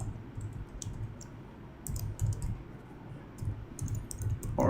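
Typing on a computer keyboard while entering code, with bursts of quick clicking keystrokes separated by short pauses, close and fairly quiet over a soft background hiss.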